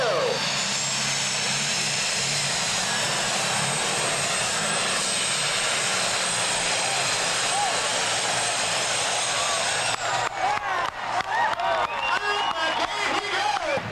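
A super stock pulling tractor with four turbochargers and twin stacks roars loudly and steadily at a 1998 NTPA pull in Shiawassee, Michigan, the engine note wavering and pulsing toward the end while crowd noise sits underneath.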